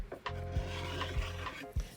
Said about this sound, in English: It was so much easier to just simply scrape it off and then sand it.